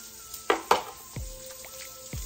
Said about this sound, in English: Let me stir my salt meat now.